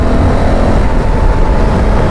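A Honda Africa Twin motorcycle cruises in fifth gear at about 4,000 rpm on a highway, its engine a steady, loud drone mixed with wind rush, with no change in pitch or pace throughout.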